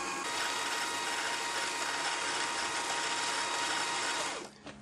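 Elna 520/540 sewing machine winding a bobbin with the foot pedal pressed, a loud, close, continuous high whirring motor that holds steady for several seconds before abruptly stopping with a small click.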